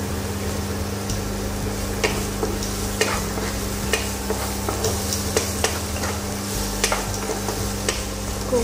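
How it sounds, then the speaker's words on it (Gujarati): Chopped onion sizzles in hot oil with ginger-garlic-chilli paste and cashews, a steady close frying hiss broken by scraping clicks of a spoon stirring the pan, with a low hum underneath and no voice. "હવે આપણે ડુંગળીને ગોલ્ડન બ્રાઉન સાંકળી લઈશું."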